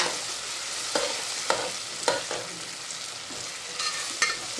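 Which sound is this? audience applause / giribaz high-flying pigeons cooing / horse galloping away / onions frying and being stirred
onions frying and being stirred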